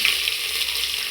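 Garlic fries in hot oil along with mustard seeds and cumin, a steady bright sizzle with a brief louder spit at the start, close and alone.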